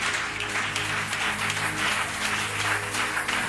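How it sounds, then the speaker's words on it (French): A church congregation applauds and acclaims the Lord, a sustained roomful of clapping with a low hum of crowd voices underneath, steady and moderately loud throughout. "Acclamons fort le Seigneur"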